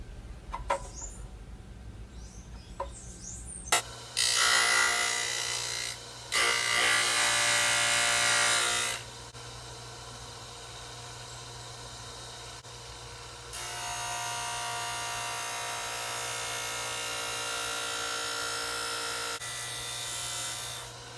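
A bench sander grinds a model ship hawsepiece for HMS Thorn to an angle, in two sustained, fairly loud bursts of abrasive whirring separated by a quieter motor hum.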